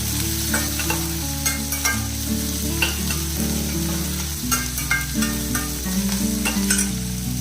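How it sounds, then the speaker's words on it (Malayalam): Chopped onion and garlic frying in a pan for carrot chutney, a steady sizzle with occasional stirring scrapes, heard close under background music. "കൂടെ തന്നെ കട്ട് ചെയ്ത് വെച്ചിരിക്കുന്ന വെളുത്തുള്ളി ഇട്ട് കൊടുക്കുകയാണ്"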